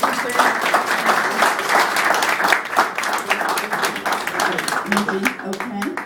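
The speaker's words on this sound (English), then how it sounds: "deserves a round of applause" Sustained applause from an audience, dense steady clapping at moderate volume that fades slightly toward the end, with some murmuring voices underneath.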